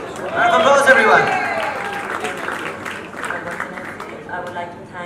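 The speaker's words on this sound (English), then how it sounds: "Round of applause, everyone." Audience applause at a charity fundraiser fashion show swells loudly in the first second, then continues as a steady, softer clatter of clapping with voices talking over it.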